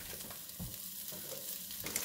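Butter sizzles quietly in a hot pan, a faint soft crackle with a few scrapes or stirring bumps, close and low in level, no voices.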